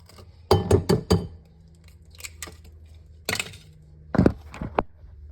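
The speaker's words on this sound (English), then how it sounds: "Let me crack this last egg here." An egg is cracked while making zucchini bread, with a few sharp knocks and crackles in quick clusters, then shell handling and a last pair of close clicks, no talk.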